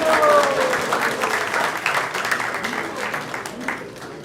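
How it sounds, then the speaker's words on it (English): Sustained audience applause fills a religious discourse gathering, dense and steady throughout, with a brief tonal whistle early on and a faint voice mixed in underneath. "So let's give them a big round of applause."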